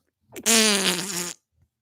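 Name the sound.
mouth imitation of farting noises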